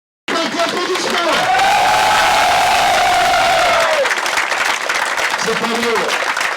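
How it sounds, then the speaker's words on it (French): Loud crowd applause and cheering at a cycling track tribute event, dense clapping with shouts and a long sustained whistle or cry riding over it, close and full, with chatter underneath. "Alors encore un applaudissement."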